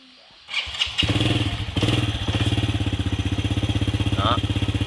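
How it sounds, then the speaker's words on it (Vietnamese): A motorcycle fitted with a Nissin front brake disc kit starts up with a thump, then idles in a steady, close, loud throbbing rhythm with a brief rise in revs while someone speaks over it. "Để máy lên test thắng trước cho anh em coi nè."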